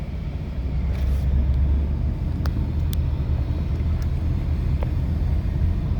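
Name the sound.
feller buncher logging machine driving out of the woods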